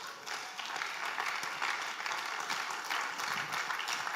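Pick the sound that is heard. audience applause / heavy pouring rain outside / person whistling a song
audience applause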